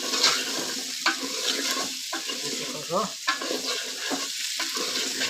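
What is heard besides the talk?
stirring a sizzling tempering in a pot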